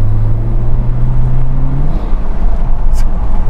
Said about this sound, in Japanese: さあ、アクセル全開、